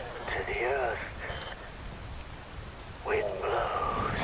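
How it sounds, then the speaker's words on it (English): Rain falls steadily in the Metal Gear Rising video game, a constant broadband hiss that continues beneath a voice speaking at the start and again near the end. "Wind blows. Rain falls."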